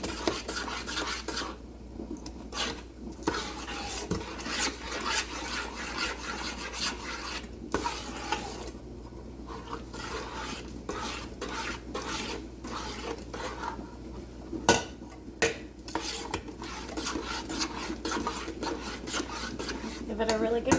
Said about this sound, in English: Give it a really good mix.